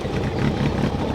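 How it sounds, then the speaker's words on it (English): A Kawasaki ZX-12R 1200cc engine with a Muzzy exhaust idles close up, a dense, even rumble with no break. "Now we'll have a listen to this one over here with the Muzzy, my favourite, the old Muzzy."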